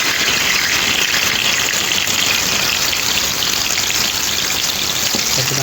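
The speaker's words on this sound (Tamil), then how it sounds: "இப்போ இதை ஊற்றி சூடாகிடுச்சு. சிக்கனை போட்டுக்கும் நல்லா." Marinated chicken for masala chicken biryani fries in hot oil, a loud, dense, unbroken sizzle that hisses evenly throughout with no voices.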